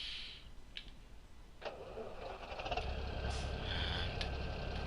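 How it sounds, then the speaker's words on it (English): A farm tractor's engine cranks and turns over in Farming Simulator 2017 as it is readied for seed sowing. A short mechanical start is followed by a steady mid-pitched idle rumble with a few light clicks on top. "and start the engine"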